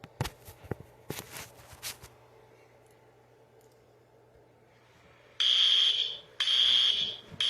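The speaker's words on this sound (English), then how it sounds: "there's a fire alarm going off, and we have to go outside" An indoor fire alarm sounds in two loud, shrill electronic bursts after a stretch of quiet with a few soft knocks and rustles.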